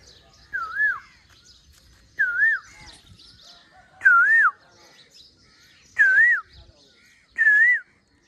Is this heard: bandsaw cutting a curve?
no